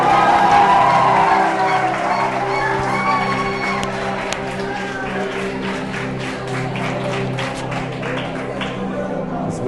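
Crowd at a medical students' gathering applauding and cheering for a doctor, a dense, loud roar of clapping, whoops and shouts with voices mixed in, thinning slightly over ten seconds.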